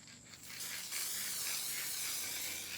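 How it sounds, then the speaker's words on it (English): Spray paint hisses steadily from a can held close, coating over a form in one long, continuous burst that swells slightly after a brief lighter start. "and then I'm going to spray paint over it."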